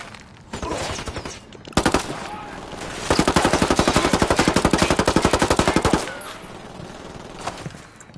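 Gunfire in the video game Ghost Recon Wildlands: a short burst around the second mark, then a long, loud, rapid automatic volley lasting about three seconds before the shooting tapers off, with faint voices in the background.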